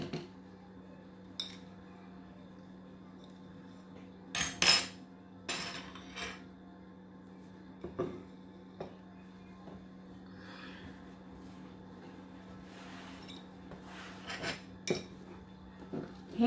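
A spoon clinks and scrapes against a bowl while mixing grated Dove soap, with sporadic sharp metallic taps and clatters over a steady low hum, some strikes louder and close, others faint.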